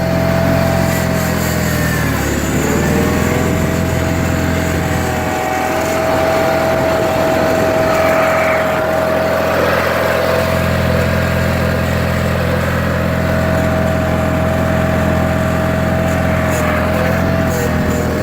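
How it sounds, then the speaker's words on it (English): A 1985 John Deere 318 lawn tractor engine runs steadily up close after a three-month cold start, holding a loud, even hum with a droning tone and slight pitch dips, no voices. "Pretty good sounding engine."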